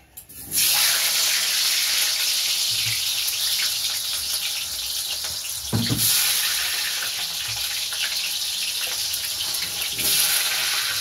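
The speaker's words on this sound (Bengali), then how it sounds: "এই কড়াইতে তেলটা দিয়ে দিয়েছি, তেলটা গরম হয়ে গেছে। আমি এবার আলুগুলো একে একে দিয়ে দেবো" Potato pieces frying in hot oil in a wok, a loud continuous close sizzle with a brief clatter midway, no talking.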